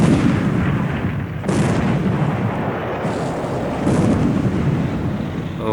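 Naval battleship gunfire in the War in the Pacific computer war game, a loud, continuous rumbling roar with several heavy booming surges.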